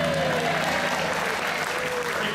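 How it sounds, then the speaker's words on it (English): Audience applause for a magician aboard a cruise ship at sea, steady dense clapping from a crowd filling the space, loud and close, with a faint voice underneath. "we're gonna get some clapping on the go."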